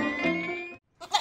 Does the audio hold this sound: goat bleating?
yes